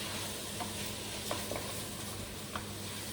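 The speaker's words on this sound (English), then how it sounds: "Give that a really good stir in with the onions and the garlic and the spring onions." Rice is stirred in a saucepan with onions, garlic and spring onions, making a soft, steady sizzle. Occasional light spoon scrapes and clicks come through, and no one talks.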